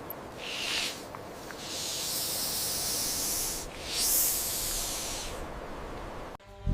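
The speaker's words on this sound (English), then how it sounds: "It's a snake." A snake hisses in a long, steady breathy rush of noise lasting several seconds, swelling slightly midway, then cutting off abruptly near the end.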